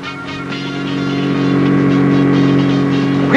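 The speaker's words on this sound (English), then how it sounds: "the Ford Capri with Nick Hallmark is being chased relentlessly by Bobo Mota in his red Porsche" A Ford Capri races flat out with a red Porsche close behind on a coastal rally road, engines droning loud and steady, swelling to a sustained roar with a sharp rising whine at the very end.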